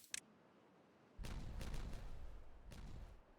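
A chain of explosions in the building game Timberborn bursts out abruptly, a sharp crack and then a sustained rumbling roar with several crackling surges that keep going and fade slightly near the end, no voices.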